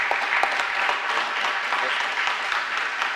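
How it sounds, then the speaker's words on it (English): An audience at a college signing-day event claps steadily, a dense, even patter of many hands that lasts throughout without clear pauses. "Let's give them all a round of applause if you don't mind."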